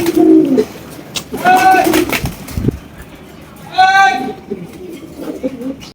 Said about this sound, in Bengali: এটা হচ্ছে মূলত জালালি কবুতর